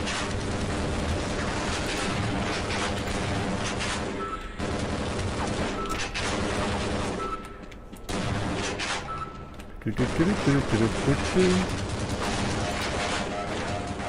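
Small automated mini turrets in Half-Life fire rapid bursts of gunfire, dense and continuous with brief gaps, alongside game mechanisms.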